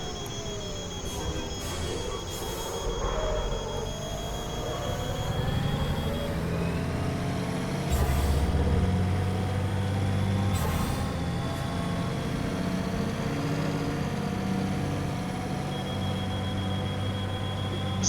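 A racing game truck revs and drives, a loud continuous engine drone with shifting pitch and gear changes. Brief hissing bursts fit air brakes, and other cars race nearby.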